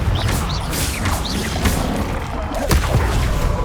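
Repeated blasts from the Confringo spell in Hogwarts Legacy burst and crash amid dense combat effects, loud crackling impacts layered over whooshes and rumbling game sound.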